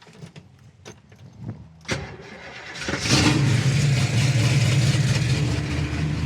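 A 1968 Chevrolet Camaro engine fires up with a sharp burst, then settles into a loud, steady, deep rumble through a stainless exhaust with an X-pipe that fills the rest of the clip.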